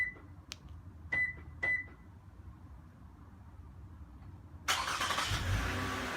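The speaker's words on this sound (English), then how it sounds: "So this is how to start the engine." A Toyota Avalon is started remotely from its key fob: three short electronic beeps from the lock button, a quiet pause, then the engine cranks and catches into a steady idle nearby.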